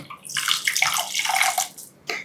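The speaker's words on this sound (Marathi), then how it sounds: "थोडंसं आणखी पाणी घालते" Water pours steadily into a rohu fish curry for a couple of seconds with a splashing, gurgling quality, then stops, followed by a short final splash.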